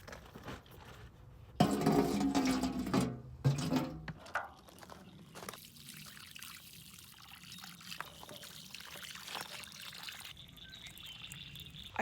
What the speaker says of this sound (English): I'm just gonna mix it with water and feed some of the plants